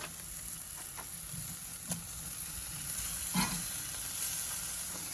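Italian-seasoned chicken sizzles steadily on a charcoal grill burning cherry wood, a moderate crackling hiss with occasional sharp pops and tong clicks.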